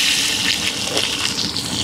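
Oil pours in a steady, gushing stream into a cooking pot, heard close and loud for a couple of seconds with no talking.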